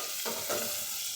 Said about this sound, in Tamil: இந்த அளவுக்கு நல்லா மசிஞ்சு ஃப்ரை ஆகுது.